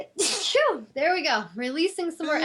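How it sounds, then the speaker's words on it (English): A single sharp sneeze bursts out near the start, followed by a person speaking calmly at close range. "I feel like I'm going to sneeze"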